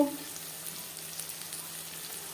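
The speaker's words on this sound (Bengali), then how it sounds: "পেঁয়াজ হালকা করে ভেজে নেব" Chopped onions frying lightly in a pan for a jackfruit-and-prawn curry give a steady, close, even sizzle throughout, with no voices.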